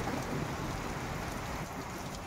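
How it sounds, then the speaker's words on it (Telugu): Heavy rain pours down steadily, a dense continuous hiss of drops hitting surfaces, with no voices. "వాన మాత్రం గల్లీగా పడుతుంది"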